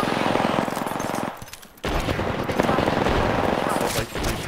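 Rapid automatic gunfire from the video game Lunar Head Lander, dense bursts of shots that pause briefly around the middle before resuming loud and continuous.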